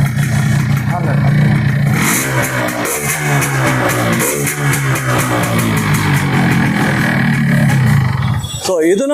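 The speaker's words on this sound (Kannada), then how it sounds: "ಐಡಲ್ ರನ್ನಲ್ಲಿ ನೋಡ್ತಾ ಇದ್ದೀರಾ ಸೌಂಡು" A stock 2000 Yamaha RX135 5-speed two-stroke motorcycle idling up close, a loud, continuous burbling engine note, with someone talking over it and a sharp blip near the end.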